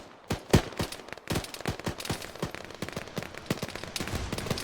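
Rapid exchange of gunfire with RPG rounds in Arma 3 combat, sharp repeated shots in irregular bursts, several louder nearby blasts among denser distant fire, continuous without talk.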